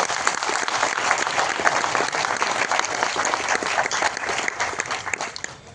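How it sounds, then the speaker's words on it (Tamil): Loud, dense applause fills an auditorium at a Tamil film music launch, continuous and steady throughout with a faint crowd murmur beneath. "இந்த அரங்கமே அதுற மாதிரி அப்பாவுக்கு பலத்த கரகோஷம் கொடுங்க"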